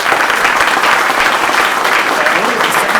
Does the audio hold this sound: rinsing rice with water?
no